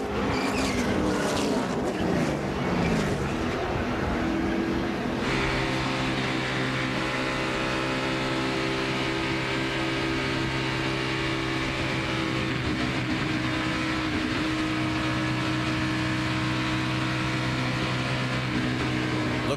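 NASCAR Nationwide race cars roar continuously at Daytona during a multi-car crash, with a dense engine drone and shifting whine, a sudden change in the engine tones after a few seconds, all loud and unbroken.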